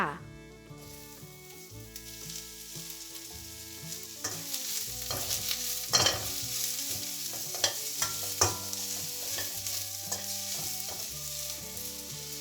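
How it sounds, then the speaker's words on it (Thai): Onion and garlic stir-fried in sesame oil sizzle steadily in a pan, with a broad frying hiss and repeated scraping stirs. A musical backing plays throughout, and clatters peak near the middle. "ผัดจนกระทั่งหัวหอมสลดนะคะ"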